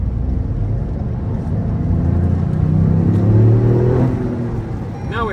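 A 2021 Toyota GR Yaris with its stock exhaust revs up close, the engine note rising to a loud, buzzy whir and then easing off, with no talking.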